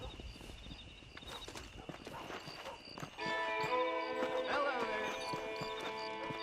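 A horse in the Red Dead Redemption video game, hooves clip-clopping steadily at a ranch as layered in-game music swells halfway through.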